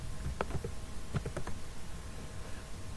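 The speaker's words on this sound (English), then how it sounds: "we need to type ng serve. So let's type in this command" Someone types a command on a computer keyboard in a few quick bursts of key clicks, close and soft, followed by a quiet pause.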